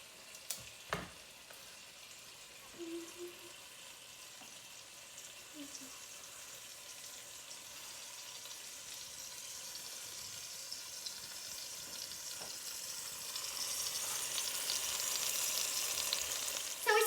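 Salted seasoned meat sears salted side down in hot oil in a pan for Halloween chili, a steady close sizzle that grows louder and hissier toward the end, with a few faint clinks early on.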